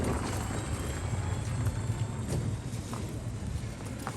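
Horses clop along at Matheran hill station, a soft irregular hoof rhythm buried in a steady outdoor wash of wind and ambient noise.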